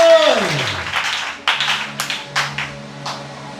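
A church congregation claps: a descending tone fades at the start, then scattered, uneven handclaps ring out in a reverberant hall, fairly close and moderately loud.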